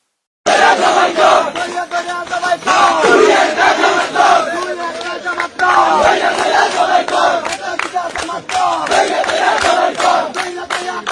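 A large crowd chants political slogans around an election, a dense roar of many shouting voices surging in loud, continuous rhythmic waves from start to finish.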